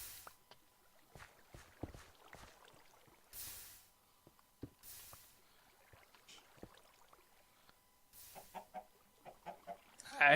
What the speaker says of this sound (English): Chicken spawn.